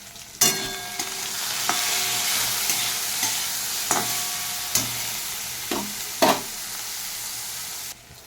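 Fried okra with turmeric stirred in a pan, with a continuous close sizzle and several distinct scraping and tapping strokes spaced a second or so apart; no talking.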